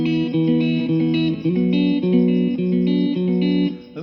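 A guitar picking through a chord progression, clear repeated notes shifting between chords at a steady pace, loud and close.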